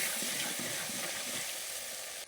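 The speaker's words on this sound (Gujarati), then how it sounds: "પછી હલાવી નાખવાનું." Turmeric is stirred into a sizzling dal tempering in a pan, producing a dense, continuous hiss and crackle close up that runs steadily and then stops abruptly, with no voices.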